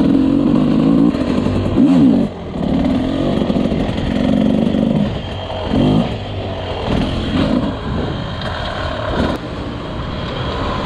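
An enduro motorcycle rides around a home track, its engine revving and bogging in repeated bursts, loud and close, with pitch swelling and dropping as the throttle opens and closes.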